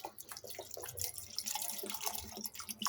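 Water poured into bael fruit pulp for sherbet, heard as a close, continuous splashing and trickling pour with no talk.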